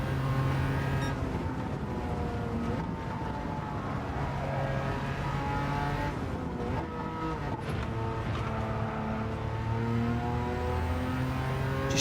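A 1980s-era production race car howls around the Goodwood circuit, its engine note loud and sustained throughout, with rising and falling revs as it accelerates and shifts.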